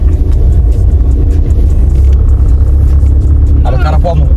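A 2001 Renault Clio II drives along with a steady, loud engine and road rumble, low and continuous throughout, while people talk inside the cabin.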